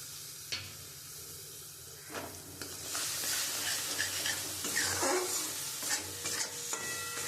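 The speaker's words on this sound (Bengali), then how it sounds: "আমি ভালো করে মশলাটা দিয়ে এবার কষিয়ে নিচ্ছি" Spice paste frying in a pan while being stirred, a close, steady hiss and sizzle with scraping stir strokes recurring throughout, and no talking.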